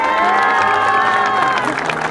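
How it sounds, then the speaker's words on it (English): At a 2023 salute-to-warriors ceremony, a close, loud crowd cheers with high whoops and shouts over scattered clapping for about two seconds. "So please give a warm round of applause."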